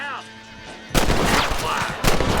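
Red Dead Redemption gunfire in a western shootout: two sharp, loud shots, each followed by a long booming decay, separated by about a second. A quieter stretch with faint tonal game sound comes before the first shot.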